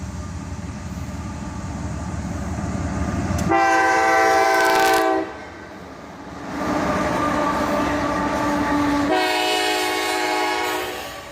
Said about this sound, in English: we could film this train coming into the siding